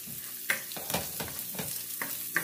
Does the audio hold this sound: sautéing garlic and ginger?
yes